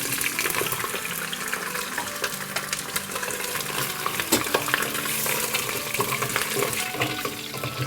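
Goat trotters, about 2.25 pounds, sizzle and crackle as they fry in half a cup of hot oil, with scraping stirring throughout, close and steady, no talk.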